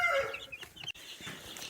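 Chickens brought back into a brooder cluck softly, a few brief, faint calls close by with quiet rustling and no speech.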